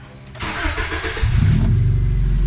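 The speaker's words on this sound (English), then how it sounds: "just let your engine run for a few minutes" A daily-driver car with a blinking check engine light, just after an oil change, cranks briefly, then catches and settles into a steady, close running idle.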